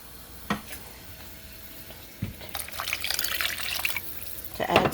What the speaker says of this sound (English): I'm just going to get 2 more cups of water.